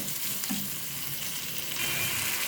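A spice masala with a pinch of sugar fries in a pan for a vegetarian chhana curry, giving a continuous close sizzle with a faint stir or scrape partway through and no talking.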